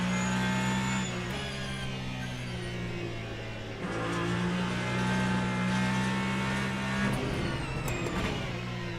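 A Ferrari race car engine in Le Mans Ultimate at Interlagos, during an online multiclass race, drones steadily and loudly. Its pitch shifts as it speeds up and slows, with no talking.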